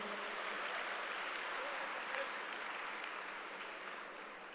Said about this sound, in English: A big round of applause once again for him